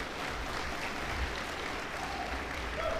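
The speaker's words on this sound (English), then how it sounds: "Give them a big round of applause" Faint, distant applause for the graduating class at a graduation ceremony, steady clapping under a low rumble of room noise.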